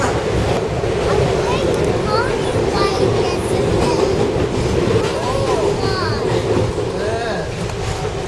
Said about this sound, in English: Do you like the train ride?